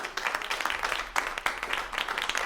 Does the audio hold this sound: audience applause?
yes